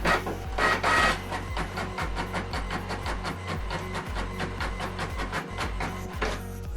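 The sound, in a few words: printer printing a double-sided black and white page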